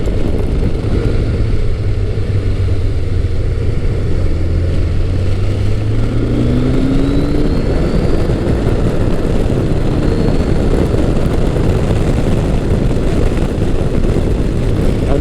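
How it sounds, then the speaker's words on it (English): A Kawasaki Concours 1000 sport-touring motorcycle engine drones steadily at highway speed in top gear, with a jet-like rising whine sweeping upward partway through, heavy wind rush over everything. "It's got that jet engine sound to it, that little bit of Kawasaki whine."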